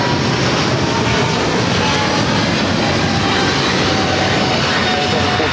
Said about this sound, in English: the 777 freighter now taking off